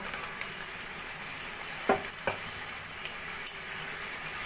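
Fried eggs are stirred into a poppy seed masala gravy simmering on low flame, a steady gentle sizzle with two quick spoon scrapes against the pan.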